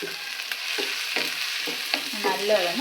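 Ginger, garlic and green chili, along with onions, fry in hot oil for a soya chunks curry, giving a steady sizzle with a few rhythmic stirring scrapes from the pan throughout.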